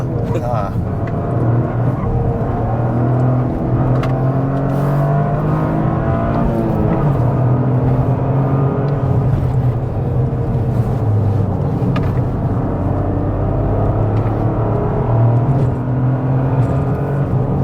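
A Toyota GR Corolla engine drones and climbs in pitch as it accelerates in third gear on a hill climb, loud and close, with a voice speaking over it at times.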